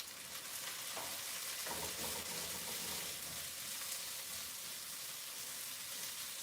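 Dahl and beans frying in a pot while being stirred, a continuous close sizzle with scraping strokes of the spoon early on, no voices.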